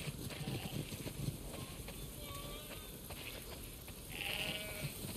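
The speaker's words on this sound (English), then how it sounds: "Wow, that's a lot of sheep." A flock of sheep bleats in The Last of Us Part II, with several short, wavering calls scattered over a faint outdoor wind bed, moderately distant and fairly quiet.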